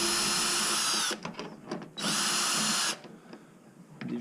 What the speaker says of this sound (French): je vais dévisser la lumière ici